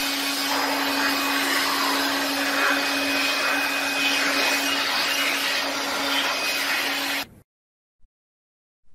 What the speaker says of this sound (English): Clean all areas by using a blower.